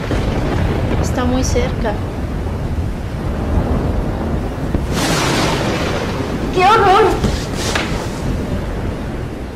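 Stormy outdoor rumble with wind buffeting, swelling into a heavy roll around the middle and building again near the end, while someone speaks anxiously over it.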